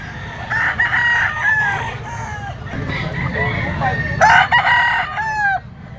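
Stag roosters, young gamecocks kept for sale, crow repeatedly and loudly nearby in overlapping calls, with a few clucks and some low background murmur between them.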